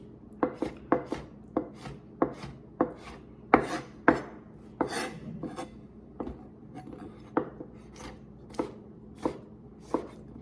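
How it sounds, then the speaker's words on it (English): Tomatoes are chopped on a cutting board with a dulling knife, giving crisp, close knocks in an uneven rhythm, sometimes in quick pairs, with no talking. "So I'll butcher these tomatoes."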